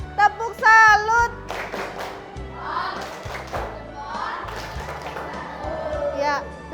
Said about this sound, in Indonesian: Kita beri tepuk salut.